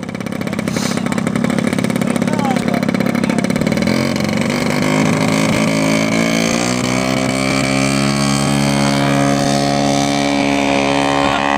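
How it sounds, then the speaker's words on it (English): A roughly 20-pound radio-controlled scale model airplane engine roars loudly and close during takeoff, its pitch climbing steadily as it accelerates and pulls away, no talking. "this ought to be a real scale takeoff. Because that's got to be a 20-pound airplane."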